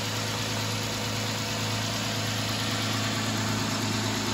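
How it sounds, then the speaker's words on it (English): A car engine idles steadily at close range while air is bled from its cooling system through the upper radiator hose, a constant low hum and mechanical whir running unbroken and alone throughout. "the vehicle will be running"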